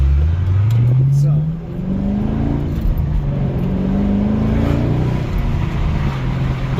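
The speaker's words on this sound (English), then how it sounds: "the one thing I always loved about the LS engines, they always sound so great" A 2010 Chevrolet Camaro 2SS with an LS V8 is being driven. The engine's deep, loud drone climbs steadily in pitch as it accelerates, briefly dips, then rises again while cruising under the cabin.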